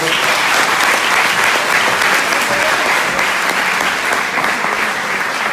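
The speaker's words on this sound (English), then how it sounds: "Give these folks another big round of applause." A university audience at a hypnotist show applauds loudly and steadily, a dense wash of clapping that carries on throughout without pause.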